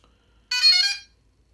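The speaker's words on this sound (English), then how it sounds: "hold 2 seconds, you hear the beep" DJI Inspire 1 remote controller giving a single bright electronic power-on beep, a short harmonic tone lasting about half a second, close and clear against silence.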